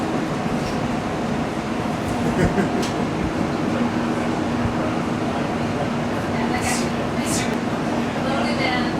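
Steady rumble and hum inside a moving Expo Line train on its opening-day first run in 2012, a constant rolling drone with faint rattles and occasional higher squeaks.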